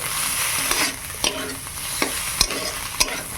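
Food fries in a pan while being stirred, a steady sizzle broken by several distinct scraping knocks of a spoon against the pan at irregular intervals.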